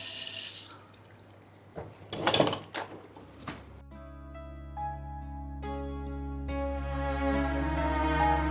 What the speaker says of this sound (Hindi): हो गया वो सही, आने लगा पानी।